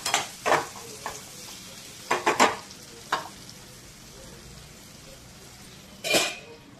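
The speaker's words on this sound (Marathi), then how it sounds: "ते 5 मिनिटे तेलामध्ये फ्राय करून घेऊयात।" Okra (bhendi) frying in oil, a constant bubbling sizzle broken by several sharp stirring clanks and scrapes of a spatula against the pan, clustered early and again near the end.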